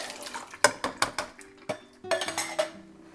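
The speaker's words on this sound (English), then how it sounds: "What we're going to do is dump in the butter beans, the chickpeas," Canned butter beans, chickpeas, black-eyed peas and black beans dumped into a metal colander, giving a series of close, clattering metallic knocks and wet thuds in uneven bursts.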